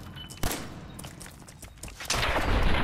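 A gun fires at a Mirelurk's face in Fallout 4, a sharp single shot cracking out near the start, followed by quieter clatter and a louder burst of noise toward the end.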